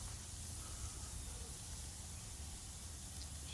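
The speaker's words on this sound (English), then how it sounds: "Another little trick I like using with my ribs: spray on oil." Cooking oil sprayed from a can onto ribs, a faint steady hiss lasting the whole moment with no pauses and no voices.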